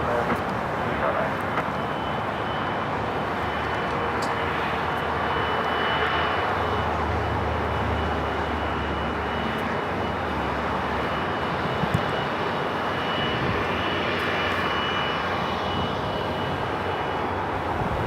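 Bombardier Global 7500 business jet landing at LAX, a steady broad engine roar sustained throughout, moderately loud against airport ambience, with radio-style talk over it.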